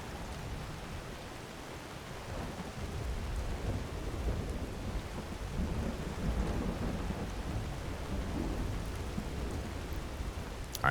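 Steady rain and rumbling thunder in Skyrim, a continuous dense wash of rainfall with low thunder swelling through the middle, loud and unbroken with no voices.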